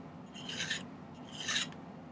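A silver ring is hand-filed with a metal file in two distinct rasping strokes, each a bright, gritty scrape close to the mic, separated by a brief pause; no one speaks.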